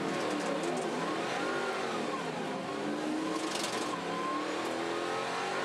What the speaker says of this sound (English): You can hear it flare into wheel spin as they cross the painted grid boxes